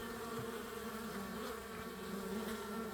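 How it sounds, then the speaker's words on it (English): A dense, steady buzzing hum of many honeybees pouring out of a hive in fall, continuous and close, with no voices over it. "Pile of new bees coming out."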